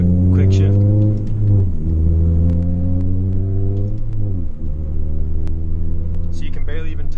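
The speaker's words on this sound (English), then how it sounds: "Clutch in, shift in the third, smoothly let clutch out, gas." Manual transmission car accelerating through the gears, the engine tone climbing steadily, then dropping at two distinct shifts before rising again, loud and close with a low rumble, while someone talks throughout.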